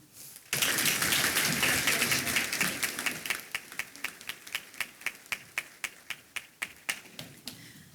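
An audience at the Youngstown-Warren Regional Chamber's ATHENA Award 2022 ceremony bursts into applause for scholarship recipients. The clapping is full and dense at first, then thins into a run of distinct, evenly spaced single claps as it fades.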